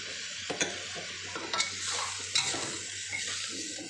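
Clams are stir-fried in a pan with basil for a mixed stir-fry, a loud sizzle broken by repeated scraping and clinking strokes of a spatula against the metal pan, several in quick succession, no speech.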